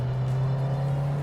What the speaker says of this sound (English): Quick lap in the Slavia